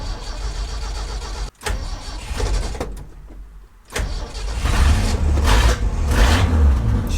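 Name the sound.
Acura Integra engine cranking and starting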